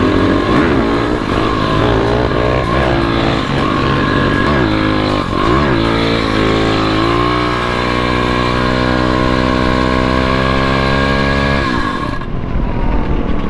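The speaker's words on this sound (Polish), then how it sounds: "Dziwna sprawa, bo mi silnik zgasł tak." An MRF pit bike motorcycle engine idling up close, a loud continuous buzzing drone with a few brief revs and wavering pitch before it suddenly cuts out near the end.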